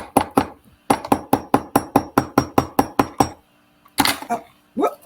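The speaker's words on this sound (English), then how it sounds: "gonna hammer it a little bit" An aluminum wire earring is hammered on a block with a quick run of about thirteen evenly spaced metallic taps. A short pause follows, then a few more scattered knocks and clinks.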